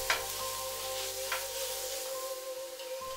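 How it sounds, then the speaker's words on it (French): Beef, finely diced garlic and vegetables sautéing in a hot pan give a steady close hiss of sizzling with a couple of soft stirring scrapes, and no one speaks. "faire revenir 10 secondes l'ail en brunoise, ajouter les légumes, cuire 2 à 3 minutes, puis la viande."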